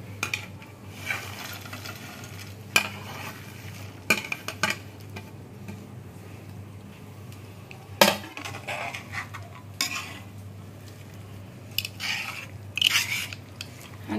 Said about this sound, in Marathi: आता हे रोस्ट केलेलं कारात ह्याका घाल मिक्स करूया.